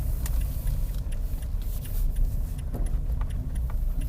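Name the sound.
car engine accelerating in first gear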